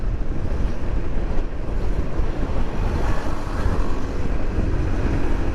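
Strong wind buffeting the microphone, a continuous rumbling roar with gusty fluctuations, close and loud, with no voices.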